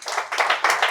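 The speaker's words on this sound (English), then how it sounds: "So give a huge round of applause for Mr." An audience at a public speaking championship claps for the institute's director coming on stage, a short burst of close, rhythmic hand claps rising and falling in quick pulses.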